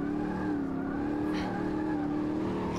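A race car drifts under handbrake in the Automobilista 2 racing game, its engine holding a steady loud drone with slight pitch wobble throughout and a faint tire hiss midway.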